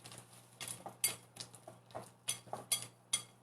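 A utensil works dark chocolate chips into thick black bean brownie batter in a bowl, making a quick run of soft, rhythmic scrapes and light clinks close by, with no talk.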